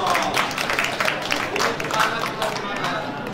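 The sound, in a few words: audience applause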